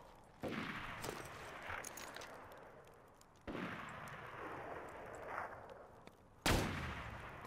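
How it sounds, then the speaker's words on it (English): Gunfire in the shooter video game Borderlands 2, three sharp reports spaced a few seconds apart, each followed by a long rolling echo across an open snowy tundra, with a low ambient background. "That's me shooting now."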